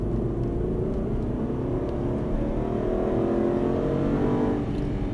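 An Aston Martin engine accelerating out of a corner on the Dreux race circuit, heard from inside the car as a loud, steady rumbling drone that climbs gradually in pitch with rising revs, with no talk over it.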